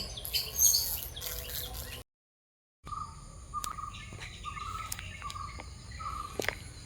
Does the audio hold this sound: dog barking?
no